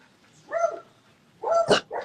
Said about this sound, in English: Dogs walking by, it's gonna get really loud because everyone's gonna start barking.